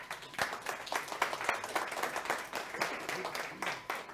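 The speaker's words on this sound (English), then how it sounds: "Can everyone give her a big round of applause?" A meeting audience claps for a woman invited on stage, producing a dense, moderately loud patter of overlapping claps that holds for several seconds with some voices mixed in.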